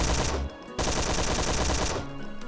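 Rapid automatic gunfire from a 2008 video game, sustained bursts with a short pause near the start and a shift in tone toward the end, loud and close with no talking.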